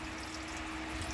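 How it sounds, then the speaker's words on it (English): Water rushes steadily through household plumbing pipes, a constant hissing flow with a low hum beneath, heard close up. "We hear the water going through."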